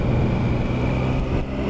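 Triumph Daytona 955i sports bike engine pulling hard under acceleration, a loud, close, sustained roar lasting under two seconds.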